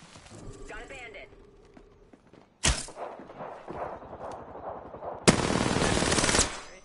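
Video game gunfire: bursts of rapid automatic shots, one short loud burst midway and a longer sustained volley near the end, close and harsh, with game sounds and a speaking voice between the shots.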